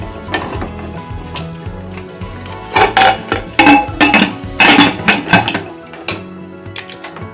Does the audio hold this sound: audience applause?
no